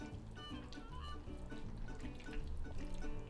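Macaroni and cheese with melting cheese chunks is stirred in a pot, a soft, continuous wet squelching and sloshing with a faint rhythmic scrape, heard close and quiet.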